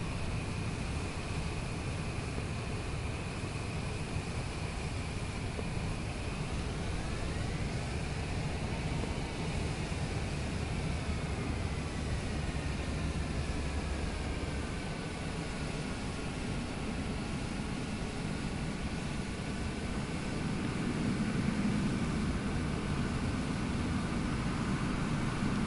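In Microsoft Flight Simulator 2024, an airliner lands in a snowstorm with its thrust reversers deployed, giving a steady, loud broadband engine roar and rush, with a slowly rising and falling whine over it.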